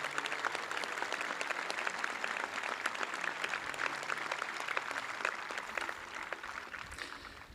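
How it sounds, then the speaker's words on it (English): A graduation ceremony audience applauds steadily for a standing group of seniors, a dense, even wash of many hands clapping throughout, fading slightly toward the end. "Let's give them a round of applause."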